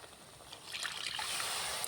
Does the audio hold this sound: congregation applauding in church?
no